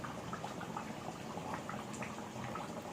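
Curry gravy reducing in a pot, a steady soft bubbling simmer with small pops and blips throughout, close and fairly quiet, no voices.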